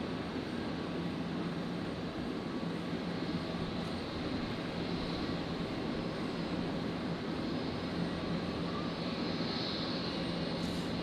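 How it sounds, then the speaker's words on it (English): A Qatar Boeing 777 at Brisbane Airport gives off a steady, broad jet-engine roar at a distance, an unbroken rumbling drone that holds level throughout without speech. "the Qatar 777 has just made its push back."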